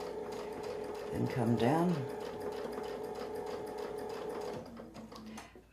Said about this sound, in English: We'll keep sewing across.